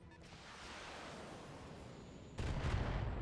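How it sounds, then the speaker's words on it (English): Missiles strike in the MechWarrior mech game, with a rumbling barrage of impacts building up and then a sharp, louder burst of hits near the end, with no talk over it. "Just missiles."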